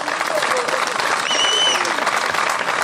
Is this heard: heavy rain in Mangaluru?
no